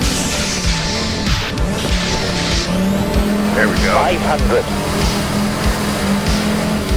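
Rally car engine in Assetto Corsa Rally, revving steadily with tire squeal and skidding on the stage, running under a co-driver's pace-note calls and someone talking over it.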